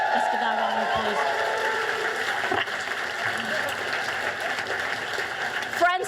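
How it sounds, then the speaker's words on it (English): A crowd at a Labour left-wing political rally applauds in a broad, rain-like wash of clapping, with some cheering and voices mixed in, fading slightly toward the end. "Let's give that a round of applause."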